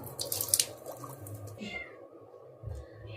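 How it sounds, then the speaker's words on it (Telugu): Basmati rice is washed in water and drained, giving faint, intermittent swishing and splashing with a few soft drips, heard close and quiet. "ఆ రైస్ని శుభ్రంగా కడుక్కుని ఒక అరగంట నానబెట్టుకోవాలి ఇలా కడిగేసుకుని నీళ్ళు పారిపోసేసుకోవాలి"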